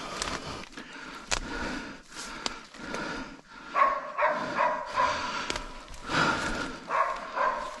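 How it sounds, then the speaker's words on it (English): A dog barks repeatedly at a distance, the sharp calls spaced irregularly over a noisy outdoor background. "we can hear his dog barking in the distance"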